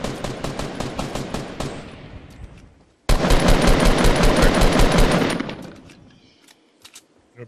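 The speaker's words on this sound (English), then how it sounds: "There's a tree in front of me. I kind of want to shoot it down." Loud, rapid automatic gunfire in Fortnite aimed at a tree, two sustained bursts of sharp rhythmic shots separated by a brief gap, the second burst denser and fading into scattered faint shots.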